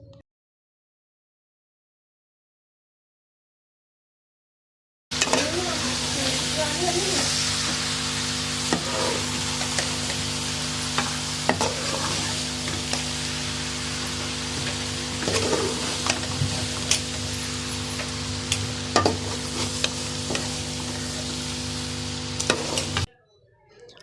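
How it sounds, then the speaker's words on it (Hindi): Steamed cauliflower being folded into chicken masala in a pan, a steady close sizzle with occasional soft scrapes and clicks of the spoon running for about eighteen seconds after a silent opening, no voices. "आराम आराम से तमाम गोभी को मसाले के साथ मिक्स कर देंगे।"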